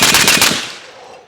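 A suppressed 7.62x39 Krink rifle from Riley Defense fires a quick burst of several close, punchy shots that trail off into a short fading echo.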